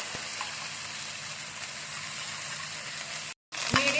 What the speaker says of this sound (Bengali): আদাটা যে বেটে রেখেছিলাম সেই বাটাটা এর মধ্যে নেড়ে চেড়ে একটু ভালো করে ভাজা ভাজা করে নেব